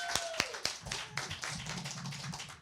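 Sparse applause for a performer at an open mic night: a few sharp, close hand claps at the start, then thinner scattered clapping that tapers off.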